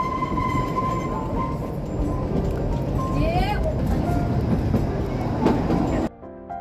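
The Kalka to Shimla toy train runs with a steady, loud rumble and rattle of wheels and carriages, a brief squeal or whistle-like tone partway through, before the noise cuts off abruptly near the end.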